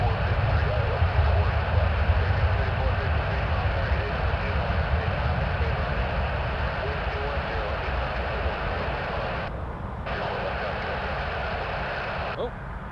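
A Dash 8 turboprop airplane inbound at Toronto Pearson Airport gives a steady, broad engine roar that holds throughout, fading slightly toward the end, with voices talking over it.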